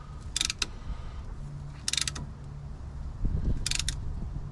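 Brake caliper piston on a Chevy Suburban being pushed back with a tool, heard as a few sharp clicking ratchet bursts at steady intervals with a low grinding push in between, close and fairly quiet.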